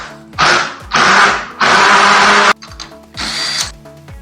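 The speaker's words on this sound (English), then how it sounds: "I'm going to grab my impact, and we're just going to run this in." A cordless impact wrench runs a lug nut onto the threads of a Honda Civic hub fitted with Integra brakes, buzzing loud and close in several bursts with short pauses between them.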